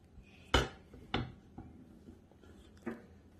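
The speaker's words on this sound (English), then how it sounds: "Josiah, see if the bowl fits." A bowl is test-fitted into the counter of a handmade high-end pretend kitchenette, giving a few sharp knocks and clatters, two strong and several lighter ones, close by with no talking.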